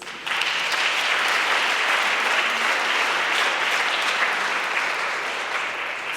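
Steady audience applause at the European Youth Charlemagne Prize ceremony in Aachen, a full, even roar of many hands clapping that holds throughout and tapers slightly near the end, with no voices on top.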